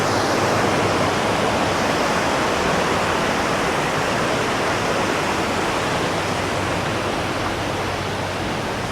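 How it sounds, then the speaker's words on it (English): A waterfall along a mountain trail in Berchtesgaden National Park, Germany, pours in a steady, unbroken roar of rushing water, full and close, with no voices or other sounds. "Sure is a lovely walk with plenty waterfalls"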